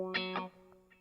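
A fuzz-distorted electric guitar track in a gospel song mix, panned hard left and right, plays two short buzzing sustained notes followed by fainter trailing hits, clear and alone.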